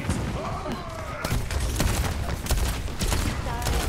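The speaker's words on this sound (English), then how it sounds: "There's too many explosions." Overwatch 2 matches are full of dense, continuous gameplay combat: rapid gunfire bursts mixed with booming explosions crowd close together at full loudness, while players talk underneath.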